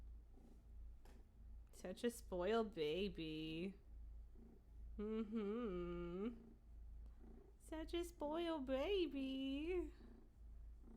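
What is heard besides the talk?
cat purring loudly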